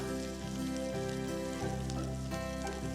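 Continuous sizzling of chopped garlic and green chilies frying in hot oil, steady and close, with a low hum underneath.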